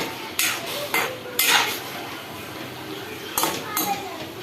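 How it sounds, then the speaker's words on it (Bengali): Metal clatters and clanks of a spoon in a pot of soft, boiled vegetarian ash gourd with a little salt, then a lid set down, a few sharp knocks spaced over a few seconds against a quiet kitchen background. "ঢাকাটা দিয়ে দিলাম"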